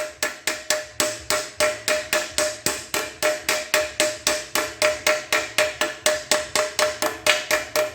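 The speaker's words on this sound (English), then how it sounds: "You can start it in with a hammer." A hammer taps a part into the axle tube of a 1976 Dodge D100 9.25 rear end in a rapid, even rhythm, about four strikes a second, loud and close, with no voices.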